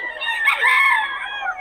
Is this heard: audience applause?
no